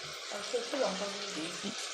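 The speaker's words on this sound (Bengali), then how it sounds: "সব কিছু দিয়ে আমি ভালো করে নেড়ে চেড়ে একটু ভাজা ভাজা করে নেব" Spices and green chilli paste are stirred and fried in a pan for an egg poppy-seed curry, making a close, steady crackling sizzle. Soft stirring movements pass through the two seconds.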